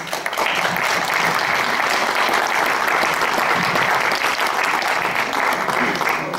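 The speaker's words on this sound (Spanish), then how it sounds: "para quien pedimos un fuerte aplauso" An audience at a conference on journalism in Mexico applauds a speaker, giving sustained, even clapping that fills the whole stretch at a steady level with a faint crowd murmur beneath.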